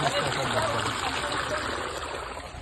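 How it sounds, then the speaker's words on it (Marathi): A waterfall rushes continuously in an outdoor hillside setting, a steady broadband roar of flowing water heard up close without distinct speech. "तुम्ही बघू शकता खूप मस्त असा धबधबा"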